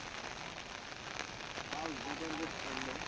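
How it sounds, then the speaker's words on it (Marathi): Heavy monsoon rain pours down in a steady, dense hiss close by, with a faint voice under the noise. "पाऊस जबरदस्त पडता बघलास"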